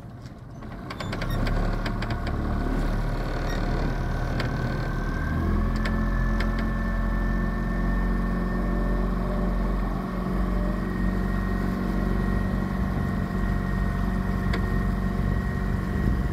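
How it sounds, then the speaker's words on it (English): An outboard boat motor hums steadily on a river after being put in gear, a continuous close drone with a slight rise in pitch partway through, alone without talk. "Bill, put it in gear and go out around this way."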